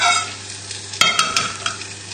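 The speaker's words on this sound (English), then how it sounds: "now we need to just pop the contents of the roasting tin through a sieve into another pan" Roasting tin juices from honey and lemon roast chicken poured through a sieve into a pan, a steady liquid sizzle and trickle with a few sharp metallic knocks and clinks partway through.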